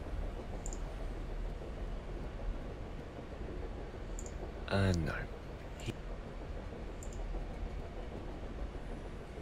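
Video game train riding along the rails, a constant rumbling hiss with faint clicks, plus a brief squealing tone midway; a voice speaks briefly over it.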